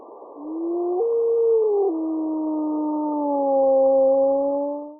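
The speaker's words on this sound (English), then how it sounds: "Not only can we hear them here and record their howling" Several wolves howl together in long, sliding, overlapping tones that rise and hold, one voice joining after another, loud and sustained over a quiet background with no talk.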